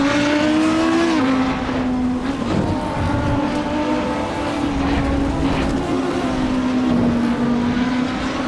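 Racing-game car engine in Assetto Corsa drives on steadily with a continuous loud drone that rises and falls slightly with throttle, close and alone without speech.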